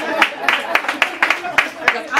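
An audience claps at a live community event, with quick regular claps and a few brief voices mixed in at close range.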